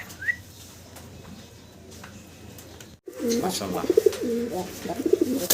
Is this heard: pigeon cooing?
yes